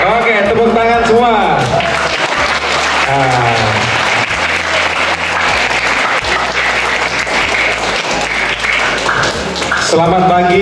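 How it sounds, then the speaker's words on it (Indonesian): An audience of students in a school hall applauds loudly and continuously, with voices audible over the clapping throughout. "Oke, tepuk tangan semua."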